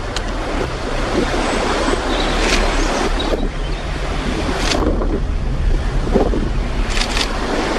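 High winds sweep through a snowy graveyard among stones and weeds in Haworth, Brontë Country, producing a steady loud roaring buffet on the microphone with periodic stronger gusts and no voices.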